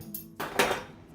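A utensil clinks and scrapes against a bowl while breadcrumbs are stirred with Parmesan cheese and oregano, a few short bright clatters over about a second, close and with no talk.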